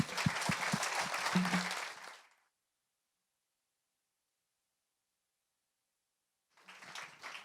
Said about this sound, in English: Could we just get one last round of applause for these fellows?